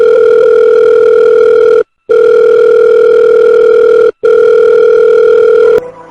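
A loud telephone dial tone hums steadily from a handset, cut by two brief silent gaps and ending abruptly, with no talking over it.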